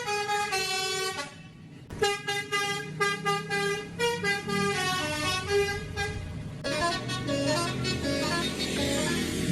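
An Indonesian Jet 3 bus sounds its 'telolet' horn: loud, musical toots play a rapid multi-note melody, pause briefly, then resume as a sustained chordal blast.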